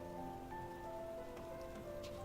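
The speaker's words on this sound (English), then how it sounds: "It's just rain." Steady patter of rain falling outdoors in the video game Night in the Woods, a continuous soft wash with faint droplet ticks under a sustained music tone, no talk.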